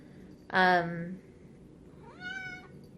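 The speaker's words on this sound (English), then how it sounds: "Ignore my cat." A pet cat gives two meows close by, a loud, drawn-out one and then a softer, rising one a moment later, over a quiet room.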